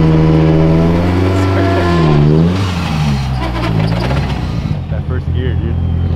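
A Mitsubishi Evo making 650+ horsepower accelerates hard from a warm start, engine note climbing loudly through the revs before a shift. The roar is close and dominant, with voices also present.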